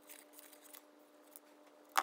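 Paper shape being cut out for a collage in an art class, scissors giving soft faint snips followed by one sharp, brief closing snap near the end.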